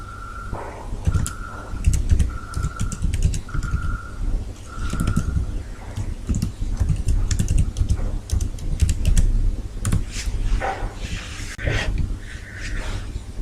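Rapid clicking of keys on a computer keyboard as an email ID is typed, in short bursts of keystrokes over a steady background hum.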